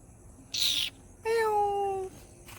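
A cat meows twice nearby: a short high cry followed by a longer, drawn-out meow, in an otherwise quiet setting.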